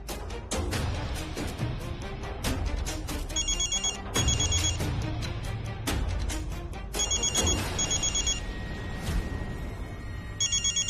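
Repeated electronic telephone rings cut through a busy music bed, several short trilling bursts in close succession, clear and near, with no voices.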